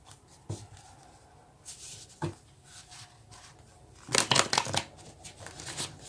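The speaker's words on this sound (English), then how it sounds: "It's hard to shuffle here when there's not very much room." Tarot cards being shuffled in a cramped space, heard as a few short papery riffles and slaps, then a denser shuffling burst near the end, close and fairly quiet.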